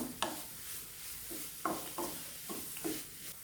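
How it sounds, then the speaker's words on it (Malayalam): A ground coconut mix being sautéed in a pan, heard as a soft low sizzle broken by a series of sharp spatula scrapes and taps against the pan at irregular intervals. "തേങ്ങയുടെ പച്ചച്ചുവ മാറുന്നത് വരെ നമുക്കിത് വഴറ്റി കൊടുക്കാം."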